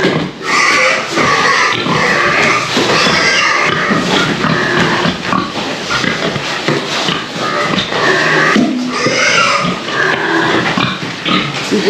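Pigs on a farm crunch and chew apples up close, with loud continuous grunting, snuffling and shuffling as they feed, no voices over it.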